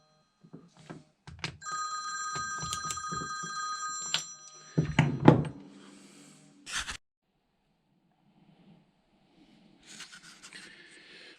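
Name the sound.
telephone ringing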